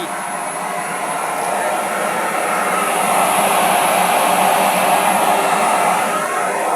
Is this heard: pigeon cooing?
no